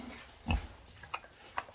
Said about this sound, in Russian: Да не хрюкай ты. Так громко.